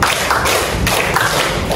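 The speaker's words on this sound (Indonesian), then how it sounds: "Tepuk 1, tepuk 2, di kanan ke kiri" Rhythmic hand clapping exercise in a classroom simulation, a few loud close claps spaced in a steady counting pattern.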